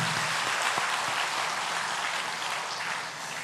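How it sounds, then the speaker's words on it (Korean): A church congregation at a Sunday worship service claps to welcome newcomers, a steady, full wash of applause that carries throughout and eases off slightly at the end. "우리 큰 박수로 환영하겠습니다"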